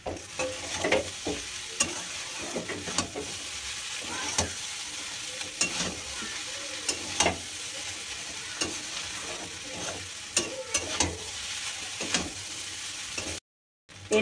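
Pasta stirred in a pan with chili sauce, soy sauce and tomato sauce: repeated scraping strokes of a spoon over a continuous close sizzle, with a brief dropout near the end.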